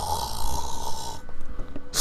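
A man imitates loud snoring with his voice, a steady rasping drone for over a second that breaks off into quieter, sputtering breaths near the end.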